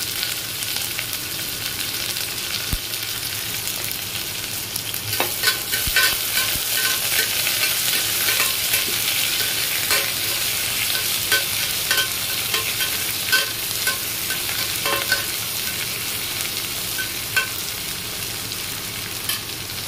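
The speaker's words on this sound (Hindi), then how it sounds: "ऑनियन को ब्राउन होने तक फ्राई करेंगे" Onions fry in a pan until brown, giving a dense, continuous sizzle throughout, broken by occasional soft taps and scrapes of stirring.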